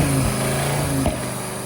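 An Audi RS3 engine with a suspected internal fault runs close and steadily, a buzzing, slightly rough drone with a faint change in pitch near the middle.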